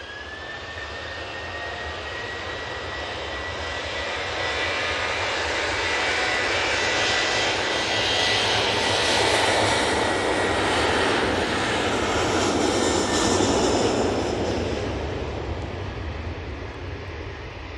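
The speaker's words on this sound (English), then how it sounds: "And that Ryanair 737-800 is back off" Loud jet roar of a Ryanair Boeing 737-800 taking off at Manchester Airport, swelling to a peak midway with engine whine and rumble, then slowly fading as it climbs away, no talking.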